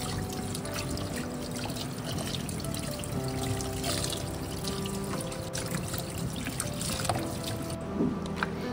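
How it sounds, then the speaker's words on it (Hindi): Tap water runs steadily while raw chicken thighs, back pieces and wings are washed for lemon chicken. The trickling and splashing stay close and continuous, with faint handling noises underneath, and nobody speaks. "सबसे पहले हम चिकन को अच्छी तरीके से धोते हैं।"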